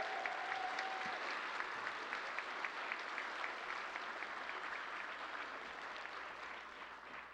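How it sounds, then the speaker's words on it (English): Graduation ceremony audience applauding in a large hall, sustained clapping from many people that stays steady and slowly tapers toward the end. "Let's give them one more round of applause and let them know."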